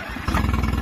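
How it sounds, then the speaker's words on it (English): A 2021 Honda outboard motor fires up after a short quiet lead-in, settling into a loud, steady low engine rumble with a rapid rhythmic idle chatter. "I'll get some water out here and fire this thing off."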